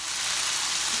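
Fruit softening in a little water sizzles steadily in a pan, a close, continuous frying hiss with no talk.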